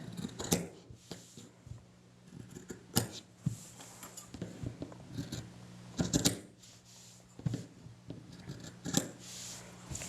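Scissors clipping the corners of sewn fabric, a quiet, irregular series of close snips and soft metallic clicks spread over ten seconds, with no talk.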